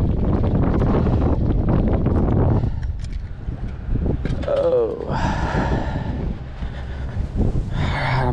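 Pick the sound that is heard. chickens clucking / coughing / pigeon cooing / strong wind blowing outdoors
strong wind blowing outdoors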